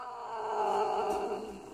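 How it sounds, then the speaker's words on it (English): A cartoon cat in the video game Don't Pet This Kitty lets out a drawn-out, tonal growling yowl that swells and fades over under two seconds, fairly loud and heard alone. "Okay, stop hissing."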